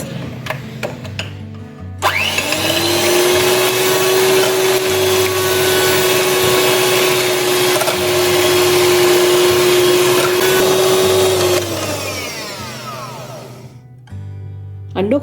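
A handheld electric beater whips eggs for coffee cake batter, starting abruptly and whirring loudly at a steady pitch for about ten seconds before winding down, with clattering at the start and end.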